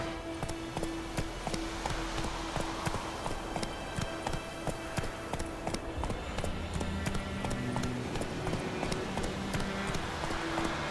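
Roach, a horse in The Witcher 3, gallops along in a steady run of clip-clop hoofbeats, close and continuous over game music, with no talk.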